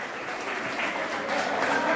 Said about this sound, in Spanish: un aplauso a mi edecán